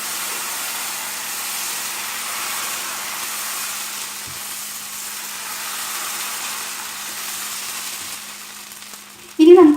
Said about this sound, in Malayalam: ഇനിയിപ്പോൾ നമുക്ക് ഇതിലേക്ക് മാവ് ഒഴിച്ചു കൊടുക്കാം